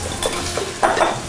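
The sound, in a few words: onions sizzling in a heavy cast skillet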